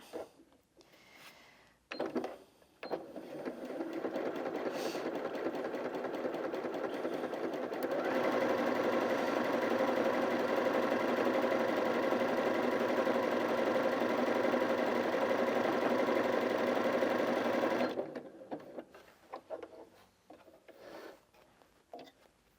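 A Janome Sewist 740DC sewing machine sews a lightning stitch, its motor and needle whirring in a steady mechanical hum close by. It starts at a lower speed, then runs faster and louder for about ten seconds before stopping abruptly, with a few soft handling sounds around it.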